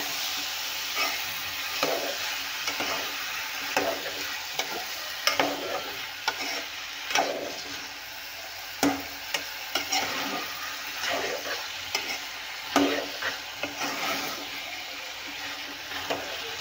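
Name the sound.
sautéing mixed vegetables (eggplant, peas, potato) in a pan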